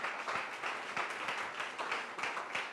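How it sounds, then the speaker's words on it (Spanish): Church congregation applauding during a Spanish-language sermon, a steady, fairly quiet wash of many hands clapping for the full length, moderately distant with no voices over it. "Denle un aplauso al Señor, claro."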